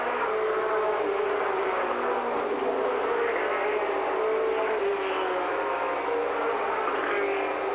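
Four-cylinder mini stock race cars circle Paris Speedway in a Daytona mini stock feature, a steady, continuous drone of engines at middle distance with no break across the whole stretch.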